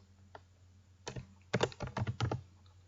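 Typing on a computer keyboard while entering an Excel formula: quick bursts of close, crisp key clicks in uneven clusters, with no talking over them.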